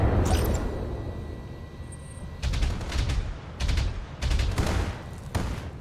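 Bursts of turret gunfire in the mech combat game Battletech, several rapid volleys spaced a few seconds apart over a steady low rumble of battle noise.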